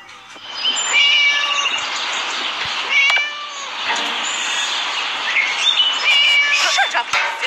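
A cat meows again and again in the horror game Scary Teacher 3D. The calls are loud, close and drawn out, over a steady background hum, and there is no talking.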